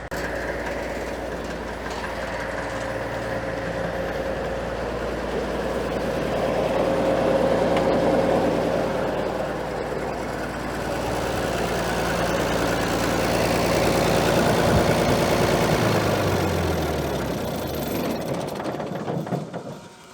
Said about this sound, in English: Let's turn the tractor off.